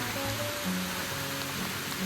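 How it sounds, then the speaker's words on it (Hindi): Rain falls steadily through a jungle in India as a dense, even hiss that holds throughout, with no distinct drops or voices standing out. "जंगल की अंदर बारिश, मजा आ गया।"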